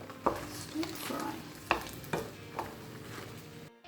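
Vegetable stir fry sizzles softly in a pan, with several sharp clinks and scrapes of stirring standing out over the steady quiet frying hiss.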